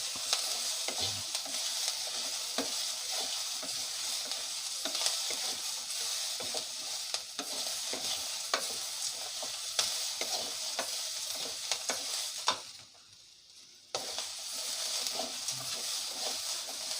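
Onions sautéing in a pan for a country chicken soup: a steady, close sizzle with occasional scraping stirs, running continuously apart from a brief pause near the end before the frying resumes.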